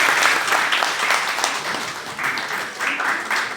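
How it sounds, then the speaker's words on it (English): A seminar audience claps for the speaker, a dense, steady round of applause that carries evenly from start to finish, close and moderately loud with only faint traces of voices. "A big round of applause for Vidya"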